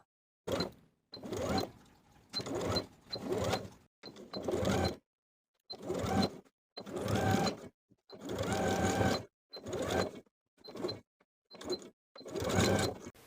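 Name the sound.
sewing machine stitching in the ditch on a dress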